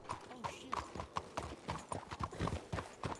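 Horse hooves clip-clop in a steady, fairly close rhythm while riding in a Western roleplay video game, with people talking over the hoofbeats throughout.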